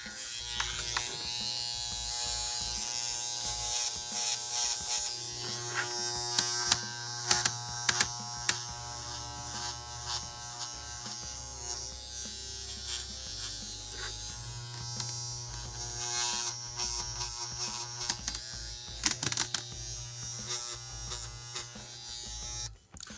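Electric shaving tool carving a deer mount form, a continuous close buzzing whine that holds steady throughout with small fluctuations in pitch and intensity, no voices present.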